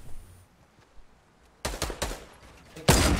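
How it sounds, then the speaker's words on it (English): Loud bursts of gunfire in Fortnite, two clustered volleys of rapid shots separated by a quieter stretch, close and punchy with no talk. "Just keep shooting."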